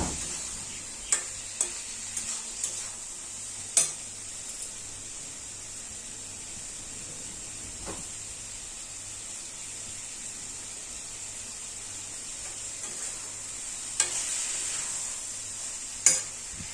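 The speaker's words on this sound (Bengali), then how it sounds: "ভালো করে কষিয়ে নেবো।" Rohu fish curry masala with potato and eggplant being sautéed in a pan, a soft steady hiss with occasional sharp scrapes and clinks of a spoon stirring, close and fairly quiet.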